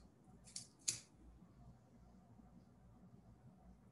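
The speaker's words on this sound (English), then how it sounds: "For the scallions, instead of chopping it, I usually just use a scissor." Scissors snipping scallions in a kitchen, two quick crisp cuts close together near the start, then quiet low background hum.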